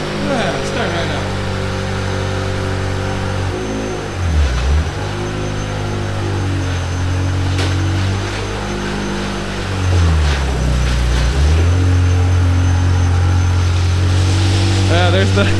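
An old Ferrari engine runs at a deep steady rumble, with two throaty revs that dip and climb in pitch before settling back to a loud idle.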